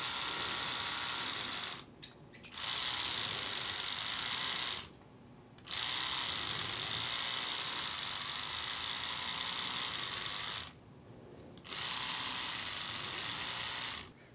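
Electric toothbrush motor and gear running with the housing opened up during a teardown, a whirring, buzzing drone in three bursts separated by short pauses.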